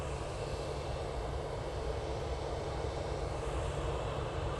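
Airliner roaring down the runway on takeoff from Manchester Airport, bound for Budapest: a loud, steady broadband engine roar with heavy low rumble that holds constant throughout, with no voices.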